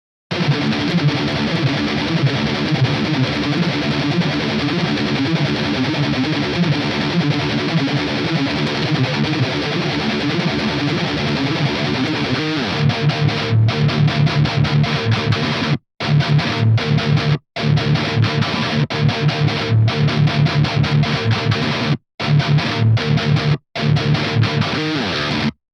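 Dense, heavily distorted high-gain metal electric guitar through an amp simulator plays continuously and loud, with a few abrupt stops and chugging palm-muted bursts near the end.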